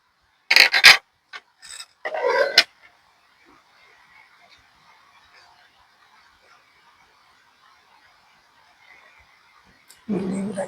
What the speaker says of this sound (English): and now I will cut the yarn.